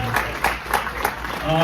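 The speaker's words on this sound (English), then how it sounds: "Let's give another big round of applause for Fernando Lopez" An audience applauds a guest at a live Q&A event, a brief burst of clapping with a few louder claps standing out, blended with a voice talking over it.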